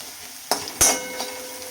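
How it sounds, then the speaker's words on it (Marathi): Red chilli powder hits hot oil in a pan, giving a short sizzle with a couple of sharp metallic clinks from a spoon against the pan, close and fairly quiet. "आता तेलामध्येच लाल तिखट टाकून घ्यायचं आहे"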